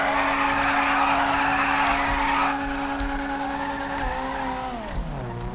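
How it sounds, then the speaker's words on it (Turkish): Tires squeal loudly and steadily during a burnout by a modded Fiat Tipo in GTA 5, with the engine droning underneath; the screech holds for a few seconds, then drops and the engine pitch falls away. "Lastik yakmaya başlayalım. Biraz ısıtalım lastiğimizi."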